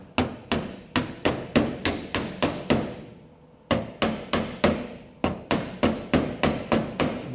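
Hammer knocking on the body of a 1929 roadster during a chop, two quick runs of sharp metallic blows in steady rhythm separated by a brief pause, close and loud.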